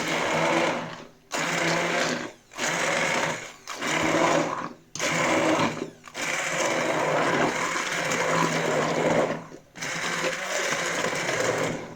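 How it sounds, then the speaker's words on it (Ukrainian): A blender whirs loudly in several bursts while pureeing cherries, stopping and restarting with short pauses between pulses, the motor grinding steadily through each run. "вишні перебити блендером"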